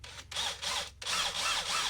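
A small power drill whirs in short bursts, with two brief pauses between runs, close by and moderately quiet.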